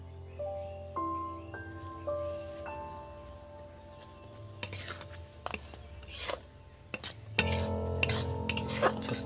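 A spoon adds heavy scoops of spice to a homemade sour-spicy-sweet amla pickle, giving a few sharp metallic clinks and scrapes midway and toward the end over a steady high tonal hum.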